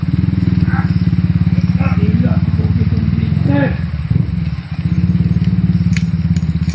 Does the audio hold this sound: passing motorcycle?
yes